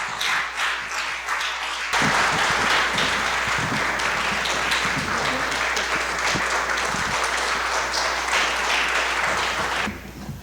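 A Boston town hall audience applauds as actor Deepti Naval is welcomed on stage: loud, sustained clapping bursts in at about two seconds and holds steady for roughly eight seconds before easing off, with no talk over it.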